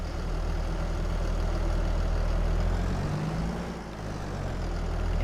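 A tractor engine idles in Farming Simulator 22, a steady low diesel throb close up, with a brief dip and shift in the rumble partway through before it settles again.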